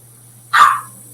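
A single sharp dog bark rings out once from another room, a clear short burst over a quiet background hum.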